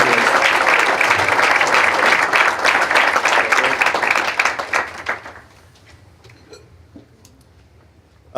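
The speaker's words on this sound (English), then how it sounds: "let's honor them with our applause" Conference audience at the 2018 GLPA awards applauds honorees with loud, full clapping for about five seconds, then it tapers into scattered claps and near quiet, ending with a sudden thump.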